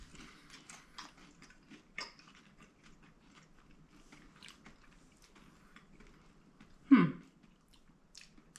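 Chewing Australian M&M candies, quiet close crunching and mouth clicks scattered over several seconds, with one louder bite or mouth sound partway through and no talking.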